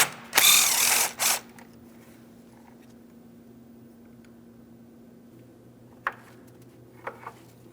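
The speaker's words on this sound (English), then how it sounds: "We're using an 8mm to start loosening the mounting hardware" An 8mm ratchet loosening the battery hold-down hardware on a 2007-2014 Ford Edge, a close burst of rapid ratcheting clicks followed by quieter isolated metallic ticks in a still space.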